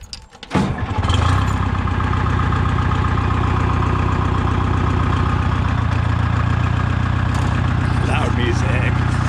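A 1950 Oliver tractor engine fires up with a sharp start and settles into a loud, steady, throbbing idle that runs on close by without a break.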